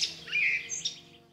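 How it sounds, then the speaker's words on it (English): A blackbird's brief whistling phrase, clear and fluting, rising and falling in a short burst before trailing off, fairly close. "the blackbird does this little whistle in stops and starts"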